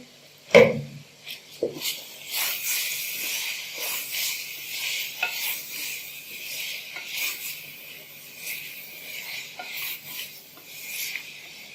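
Red chili powder and spices roasting in a pan for beef keema karahi give off a steady, close sizzle with scraping and stirring throughout, following one sharp knock at the start.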